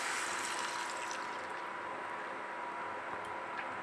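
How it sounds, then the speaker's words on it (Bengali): Water is poured steadily into a pan of cooking kulekhara greens, making a continuous close hiss and splash that stays even for a few seconds with no voices. "এবার জলটা শুধু দিয়ে দিই"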